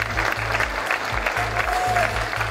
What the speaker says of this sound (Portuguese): Sunak foi aplaudido pelo staff como um salvador da pátria.